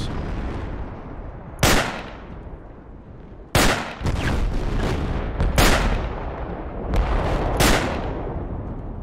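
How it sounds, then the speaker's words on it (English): Artillery fire in a video game lands as a series of heavy booming blasts, about six impacts spread irregularly over a rumbling battlefield background, each sharp onset trailing off into a low roar. "Are they dropping artillery?"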